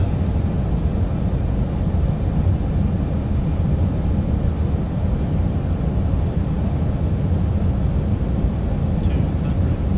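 Zibo Boeing 737-800 airliner on final approach in X-Plane 11, a steady loud low engine and airflow roar holding evenly throughout with no voices.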